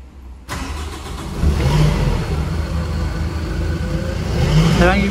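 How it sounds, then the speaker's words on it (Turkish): A Hyster Fortens forklift engine cranks and catches, then idles in a steady, loud, close rumble with a slight rise in revs partway through. "Aracımızı çalıştıralım."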